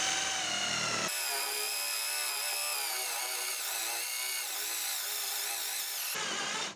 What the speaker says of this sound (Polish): No i spróbujemy wywiercić tutaj otwór.